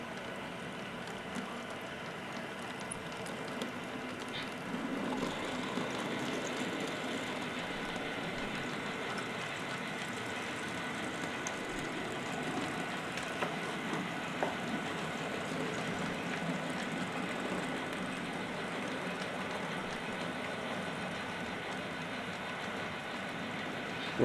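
A model train rolls along a layout through a junction with passing sidings, giving a low, steady mechanical rumble and hum at moderate distance with little variation over the stretch.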